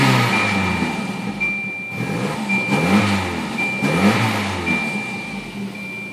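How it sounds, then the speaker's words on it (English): A 1993 Volvo 940 Turbo engine revs repeatedly in rising and falling surges, with a rough, raspy exhaust rattle from holes in the exhaust throughout. "I think my exhaust has a hole or two, so it's a little loud."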